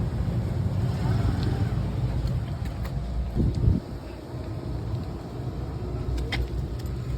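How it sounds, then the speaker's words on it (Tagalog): Boat engine running steadily at close range, a loud low rumble with wind noise over the microphone and a brief clatter partway through, while people talk over it. "Maingay yung loob ng makina."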